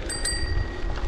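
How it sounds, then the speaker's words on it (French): A single bright ding of a bicycle bell on a gravel bike ride, its clear tone ringing out over outdoor wind rumble and rolling noise. "j'ai remis une belle sonnette sur mon vélo"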